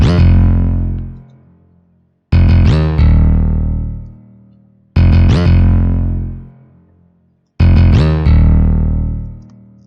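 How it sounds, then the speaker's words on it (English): Four booming 808 bass hits in a beat, each a punchy distorted attack with a pitch dip followed by a long decaying tail, spaced about two and a half seconds apart, loud and alone. "This sound right here is a bass, an 808"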